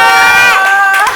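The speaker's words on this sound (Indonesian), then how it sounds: "Beri tepuk tangan untuk Umi Kwari." A comedy open mic crowd cheers and shouts loudly for a comic about to take the stage, a dense, close wash of voices with high whoops.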